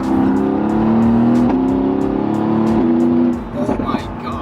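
Mercedes-AMG GT S engine in manual mode, droning steadily under load then blipping and surging on downshifts, close and loud, with the revs dropping away toward the end; people talk inside the cabin.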